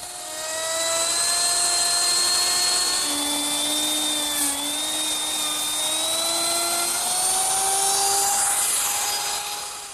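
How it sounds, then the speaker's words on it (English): A router fitted with a laminate trimming bit, guided by a small ball bearing, trims excess laminate from the edge of an oak bathroom vanity top, giving a loud, sustained high-pitched whine that wavers slightly in pitch as it moves along. "I use my router with the laminate trimming bit"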